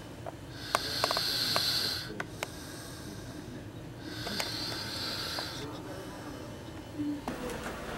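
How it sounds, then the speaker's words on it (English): A sleeping woman snores in bed at night, with two long rasping, hissing breaths a few seconds apart, close and fairly loud, amid faint clicks and room noise. "That was the snoring."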